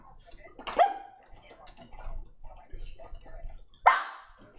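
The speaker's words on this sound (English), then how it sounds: "Why is he barking?" Pet dog named Charlie barking indoors, a few sharp separate barks with pauses between them, mixed with light household noises and a person talking nearby.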